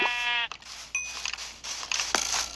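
One short Minecraft sheep bleat at the start, followed by scattered faint clicks and soft rustling noises.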